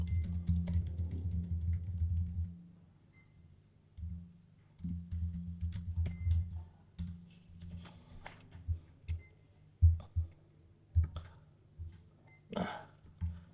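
Keys clatter on a computer keyboard as a kubectl command is typed in a Kubernetes terminal, irregular clicks and bursts of keystrokes, close, with a low hum underneath.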